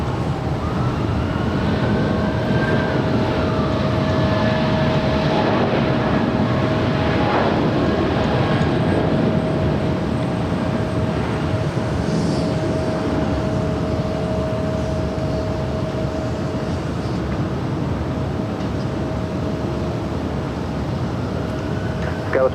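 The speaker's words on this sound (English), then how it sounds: "we do have a United 777 rolling down 25 right" A United Boeing 777 jet rolls down runway 25 right at LAX for takeoff, a steady loud roar of engine noise sustained throughout, with a faint tonal whine riding over the broad rumble.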